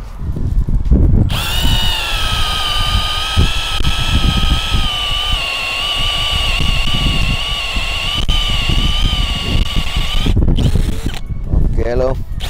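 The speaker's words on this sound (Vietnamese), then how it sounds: "test khoan gỗ với một mũi 35mm" A Bosch GSB 185-LI cordless drill bores into wood with a 35mm bit, a loud steady whining drone with harmonic tones that runs for about nine seconds, bracketed by brief handling noises at start and end.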